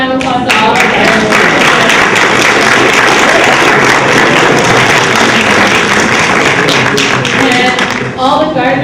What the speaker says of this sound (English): let's give one more round of applause to all of them